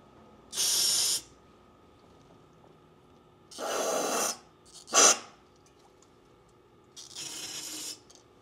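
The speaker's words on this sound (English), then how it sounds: "Got some gum out carbon choke cleaner. Let's try that in here." Carburetor choke cleaner sprayed from an aerosol can into an old Yamaha 9.9 four-stroke outboard motor: four separate hissing bursts, each roughly half a second to a second long, the third short and sharp, with quiet gaps between.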